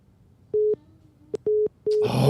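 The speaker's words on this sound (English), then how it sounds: "I hung up on Don Supreme and Voltron right now" Telephone busy tone after a call is hung up mid-voicemail: three steady beeps of equal pitch, close and clear, the last one overlapped by a burst of broadband noise at the end.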